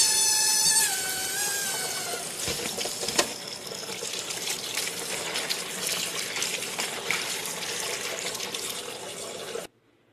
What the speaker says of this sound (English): Now I'm just going to give them a good rinse.